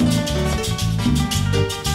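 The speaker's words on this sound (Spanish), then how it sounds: "Salseadito ahí para escuchar un solo de timbales" A live salsa band plays under a timbales solo, with sharp metallic rim and shell hits cracking in quick bursts over sustained bass and horn chords, loud and close, with no voices.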